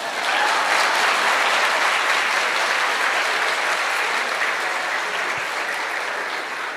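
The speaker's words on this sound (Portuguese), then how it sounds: "Vamos dar uma salva de palmas para essa mulher?" A lecture audience gives a woman a sustained round of applause, dense and loud throughout, then easing off slightly toward the end.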